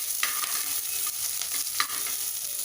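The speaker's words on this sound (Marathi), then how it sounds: "जिरं पण छान फुलू द्यायचं आहे तेलात" Cumin seeds, ginger and green chillies fry in hot oil, a bright continuous sizzle close up with a few sharp crackles and pops, and no talking.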